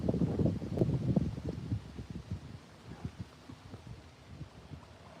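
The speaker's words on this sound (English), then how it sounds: "It's so friggin' windy here, guys." Gusty wind buffets a microphone outdoors, rumbling and thumping loudly at first, then easing into softer intermittent puffs.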